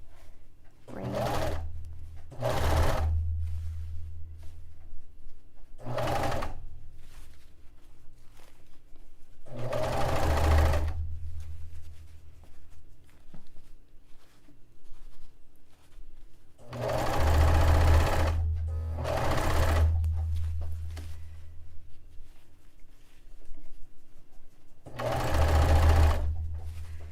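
A serger cutting and stitching bed-sheet fabric for a vintage-style dress runs in several loud mechanical bursts of varying length, separated by quiet pauses, close to the listener.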